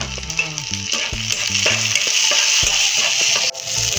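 Vegetables for sambar sizzle and hiss steadily in a hot pan with tomato, cumin and mustard seeds as they are stirred, with a soft low tone running underneath.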